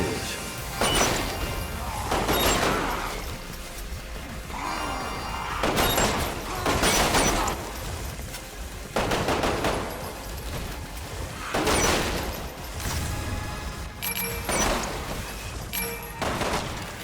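Pistol gunfire in a Resident Evil video game, sharp bursts of shots in clusters at a steady pace amid clattering game effects, moderately loud.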